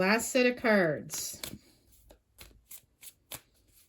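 Tarot cards being shuffled: a person speaks briefly at the start, then a run of quick, crisp card riffles and flicks follows in an irregular rhythm, close and clear.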